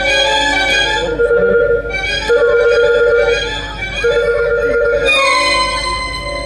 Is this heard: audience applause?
no